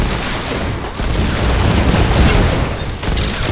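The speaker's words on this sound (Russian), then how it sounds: "Взрывы" Continuous heavy explosions and booming blasts in a Fortnite battle, dense and loud throughout with brief dips, no talk.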